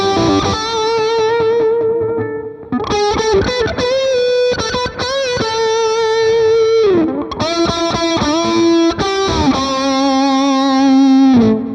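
Electric guitar through the AmpliTube 5 amp simulator, playing sustained, singing lead notes and melodic phrases with moderate overdrive, effects and reverb, loud and close, with a brief gap near three seconds.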